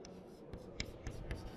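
Chalk or marker writing on a board during a class 8 maths lesson, with a few soft scratchy strokes at close range and no talk.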